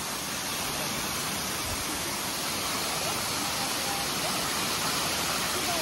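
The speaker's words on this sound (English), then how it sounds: "Literally, guys, like waterfall number 23 for us." Hickory Nut Falls in North Carolina pours in a constant, even rushing hiss of falling water, steady and fairly close throughout with no talk.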